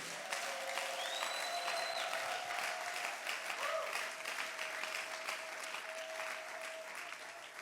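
Faint, distant applause from a church congregation acclaiming the Lord, a steady patter of clapping that fades slightly toward the end, with a thin held tone and brief voice-like sounds in the background.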